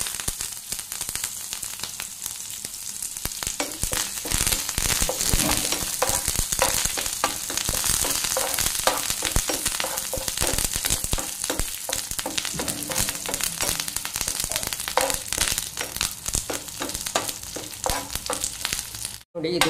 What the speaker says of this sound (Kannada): ಕರಿಬೇವು ಹಾಕ್ತೇನೆ